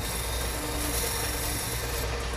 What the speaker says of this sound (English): take my parting tool, go down to the final diameter of the chanter cap